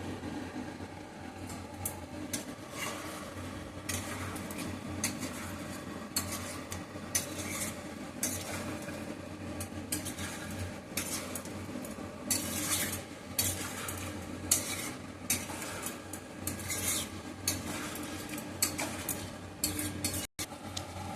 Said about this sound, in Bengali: এবার আমি এটাকে সুন্দর করে একটু কষবো।